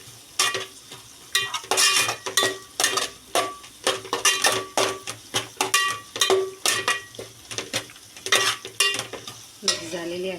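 Vegetables frying with turmeric in a pan, stirred in a rapid, regular series of loud scraping strokes and clanks over a faint sizzle, close up and continuous.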